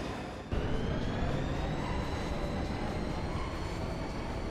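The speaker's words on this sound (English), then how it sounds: "This train bound for East Academy will depart shortly." A Final Fantasy VIII train to East Academy rumbles as it pulls away, a sudden onset of dense, loud rolling noise that holds steady with no speech.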